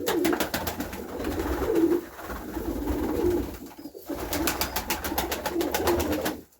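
Domestic pigeons cooing at the nest in a loft, low repeated throaty coos in steady rhythm, close and clear over a soft background hum, with a brief pause midway.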